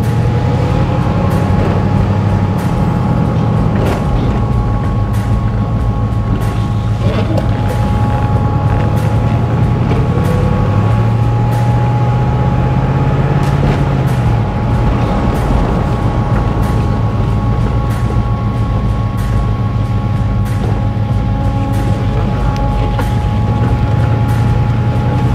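Loud, steady mechanical drone of an electric fuel pump running on a 1976 Pontiac Trans Am with a newly installed Holley Sniper fuel injection system, continuous throughout alongside the idling engine.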